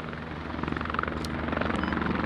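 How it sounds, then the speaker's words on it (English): Helicopter in the Squad military shooter, set around Donbas, heard at a distance passing overhead: a steady broadband rotor drone with a fast chopping pulse, moderately loud throughout and carrying no speech. "I'm hearing heli."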